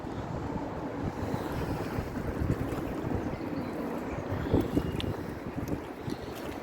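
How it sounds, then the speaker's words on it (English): Biting wind gusting beside a flooded river, a steady broadband roar with buffeting rumble on the microphone, continuous and fairly loud throughout with no voices. "It's a bit of a biting wind here as well"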